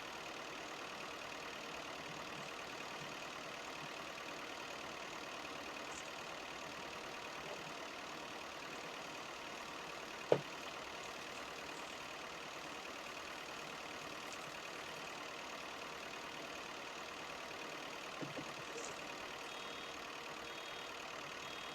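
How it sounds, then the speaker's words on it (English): A Ford tractor engine of the latest model runs steadily on a farm in 1961, a continuous low hum with no speech and only a single brief click partway through. "Ford do seem to have done a good job on this latest incarnation of the tractor, just that little bit more power."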